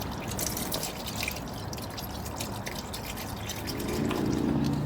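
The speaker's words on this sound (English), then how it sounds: "Now let it drain." Engine oil pours steadily from the open drain plug of a 10th-generation Honda Civic into a drain pan, a continuous close splashing trickle that grows slightly fuller near the end.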